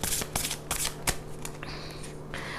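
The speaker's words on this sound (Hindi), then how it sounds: "Let me pull 3 cards from this deck." A deck of tarot cards being shuffled and drawn, with rapid close riffling bursts, crisp flicks and slides of cards, and a steady low hum underneath, no talking.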